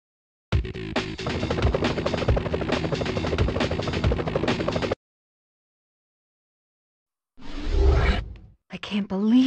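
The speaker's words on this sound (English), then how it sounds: "Whoa, police choppers." Police helicopters in the Nintendo 64 Spider-Man video game give a loud, dense whirring roar for about four seconds, then go silent before short, choppy game sounds return.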